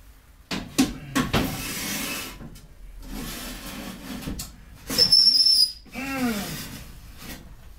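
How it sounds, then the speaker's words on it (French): A thin, high-pitched whistle rings out for under a second amid scraping and rubbing noises from an old Mazda, followed by a sliding, wavering tone. "ça siffle tellement, j'ai mal aux dents"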